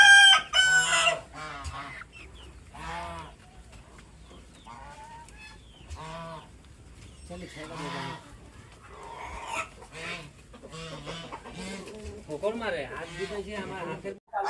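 Chickens cluck repeatedly around a farmyard pen that also holds turkeys and goats, and a rooster crows loudly at the start. A person talks over the birds throughout.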